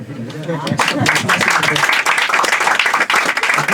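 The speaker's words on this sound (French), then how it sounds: "un peu applaudir pour la France, s'il vous plaît." An audience claps together in steady, dense applause lasting several seconds, fairly loud and close, with voices mixed in beneath the clapping.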